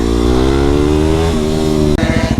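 A Yamaha WR250X supermoto motorcycle engine revs hard and close on a track, a steady high-pitched drone that climbs slightly and then drops sharply with a gear change near the end.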